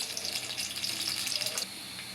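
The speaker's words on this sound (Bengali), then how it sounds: "এই যে পেঁয়াজটা ভাজা হয়ে গেছে" Onions frying in oil for a chicken dish, a soft crackling sizzle mixed with a watery hiss that drops away near the end, fairly quiet and close, with no talking.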